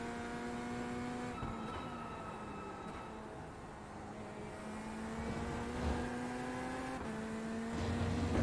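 Chevrolet Corvette Z06 GT3.R race car lapping Watkins Glen in iRacing, its engine droning steadily with rising pitch sweeps and sharp drops at gear shifts, loud and continuous with no talk.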